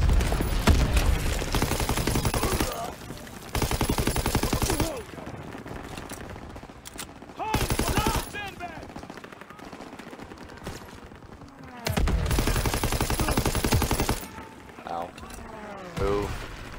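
Anti-aircraft gun in the Call of Duty: WW2 video game firing in long rapid bursts, loud and close, broken by short pauses, with shouted voices and battle noise between the volleys.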